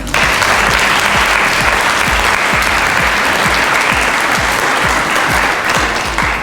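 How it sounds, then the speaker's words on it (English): A school-event audience gives a loud, sustained round of applause, dense clapping with a few sharper individual claps standing out, steady throughout. "I would like you to give Carla a round of applause for helping your jobs easier this year"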